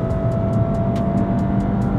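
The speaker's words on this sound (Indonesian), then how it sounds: "jadi tadi kita udah tes akselerasi 0 ke 100" A Honda HR-V e:HEV hybrid accelerating hard from 0 to 100 km/h in sport mode, a steady droning engine and road roar heard from inside the cabin, unbroken and fairly loud.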